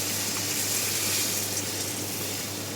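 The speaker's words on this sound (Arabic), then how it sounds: "هسه اضيف عليه المي" Water gushes steadily into a cooking pot of fried tomato paste, meat, onion and tomato, a loud continuous pouring rush that fills the whole moment without any talking.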